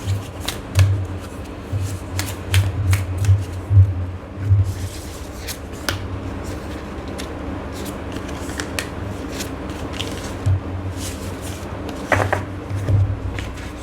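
Tarot guidance cards are shuffled by hand in quick bursts of riffling and soft slaps, close and fairly loud, pausing then resuming near the end.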